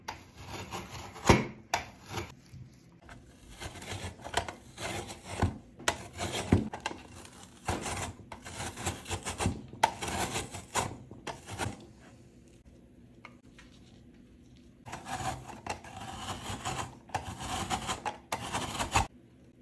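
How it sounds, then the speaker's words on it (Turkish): A frozen chicken breast is grated by hand, producing repeated close, rough rasping strokes in bursts with short pauses between them. No one speaks. "donmuş tavuk göğsünü böyle rendeliyoruz."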